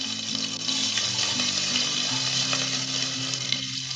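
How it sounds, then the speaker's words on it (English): Mustard, cumin, fenugreek and onion seeds splutter and sizzle steadily in hot oil, a dense, continuous crackle that holds for the whole stretch with no one speaking. "Once it heats add in the mustard and cumin. So it has started spluttering."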